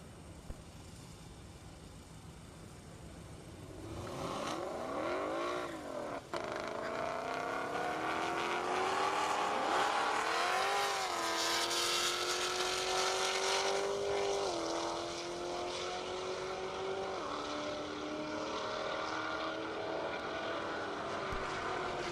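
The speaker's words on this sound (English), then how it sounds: "Corvette a little slow off the line that time around" Drag racing cars, including a Corvette, launch off the line on a half-mile airport strip in Indiana, engines erupting loudly after a quiet start and roaring as they accelerate away into a sustained, fading drone.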